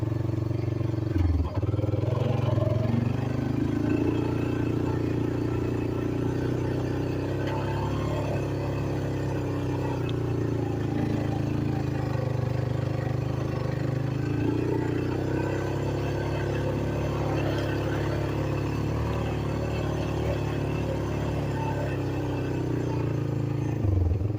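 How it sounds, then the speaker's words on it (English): An old Honda motorcycle engine runs steadily on the throttle outdoors on a farm, a continuous close, loud chugging drone with slight swells in pitch and no pauses. "So this old Honda, if you don't stay on the throttle, she'll die on you"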